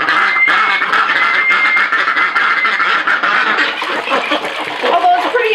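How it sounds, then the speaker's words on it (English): A group of contented ducks at evening snack time, quacking busily and continuously at close range. "And some very happy duckies."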